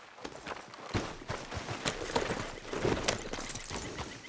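Horse hooves walk in a steady, uneven clip-clop over ambient outdoor game sound in Red Dead Redemption 2, moderately loud and continuous throughout, without speech.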